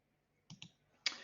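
A computer mouse clicks quietly, two quick clicks close together and then a slightly louder third click, heard close up in a quiet room.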